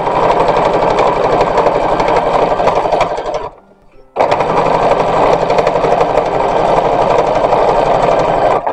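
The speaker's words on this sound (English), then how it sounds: "So I'm sewing the waistband now." A sewing machine stitches a linen dress waistband with a loud, fast, steady mechanical whirr, pausing briefly midway before resuming at the same even pace.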